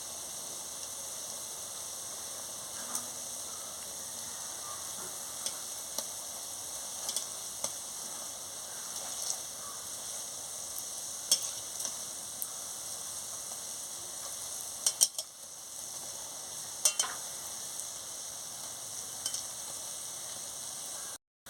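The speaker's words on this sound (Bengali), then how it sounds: "কম জাল দিয়ে বড়াটা ভাজতে হয়।" Drumstick flower fritters frying in oil over low heat give a steady, soft sizzle with faint crackles throughout, close and even, with no voices.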